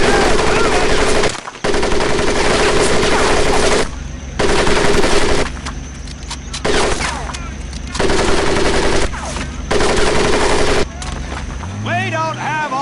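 Bursts of machine gun fire in the video game Medal of Honor Pacific Assault come loud and close, repeatedly starting and stopping in long volleys separated by short gaps.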